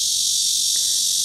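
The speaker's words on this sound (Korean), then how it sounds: "매미도 덩달아 아주 시원하게 울고 있습니다" Cicadas buzz in a steady, loud, unbroken high drone on a clear, sunny summer day after a spell of heavy rain, with no voices.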